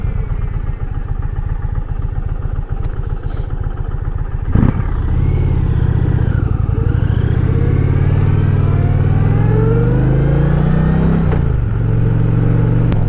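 An Indian Challenger bagger motorcycle rumbles along on the road, its engine note pulsing and rising as it accelerates through a gear change, with steady wind rush and a brief clunk partway through.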